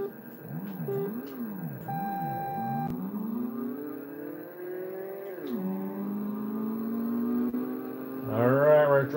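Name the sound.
arcade driving game car engine accelerating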